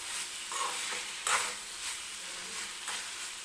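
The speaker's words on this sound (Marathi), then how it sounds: "परत ही भाजी व्यवस्थित मिक्स करून घेते" A spoon stirs cauliflower and green pea bhaji in a pan, a steady scraping shuffle with soft sizzling underneath and a few sharper clinks against the metal, close and fairly quiet with no voices.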